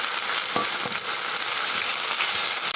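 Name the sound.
onions frying in oil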